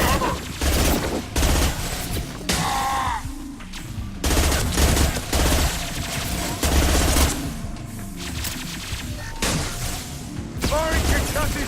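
Bursts of gunfire and heavy weapon shots ring out during a Mass Effect 2 battle, with repeated loud rapid volleys and booming impacts, overlapped by occasional talk.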